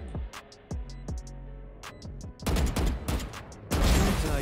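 Gunfire in the Valorant first-person shooter, with Yoru among the agents: sharp, loud shots come in quick bursts and single cracks, growing denser toward the end, and no one speaks over them.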